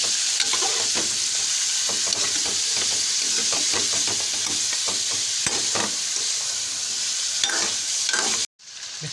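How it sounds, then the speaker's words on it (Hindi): Mutton with onion, ginger and garlic frying in ghee, a steady loud sizzle with stirring scrapes and clinks throughout, cutting out briefly near the end. "प्याज के साथ हमने इसको अच्छी तरह से भून लिया है"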